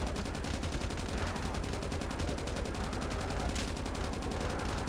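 Guns firing at zombies in Call of Duty: Mobile, a steady rapid stream of automatic shots at even rhythm for five seconds, moderately loud and continuous with no pauses.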